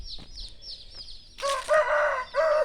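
A farmyard rooster crows near a backyard beside banana groves in a rural Thai village, a long strained crow with a rising then sustained call, heard loud and close with no talk over it.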